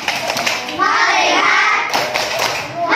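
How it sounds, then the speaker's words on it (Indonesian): Students in a classroom perform a rhythmic focus clap, several bursts of group hand claps and taps in a patterned sequence, close and fairly loud, with children's voices mixed in. "tepuk fokus."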